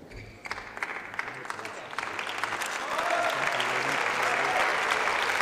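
Spectators at a badminton mixed doubles final at the 2014 French International applauding and cheering, the clapping swelling from scattered claps into a fuller sustained ovation in a large indoor hall, with a commentator's voice faintly under it.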